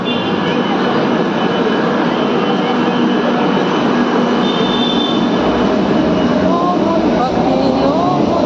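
A Kolkata local train runs at speed, heard from inside near the driver's cab, a loud constant rumble and rattle with occasional wheel squeal and muffled voices beneath it.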